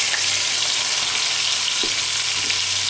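Shrimp fry in olive oil in a pan with a steady, close, hissing sizzle, dense and continuous, with a couple of faint knocks from a utensil.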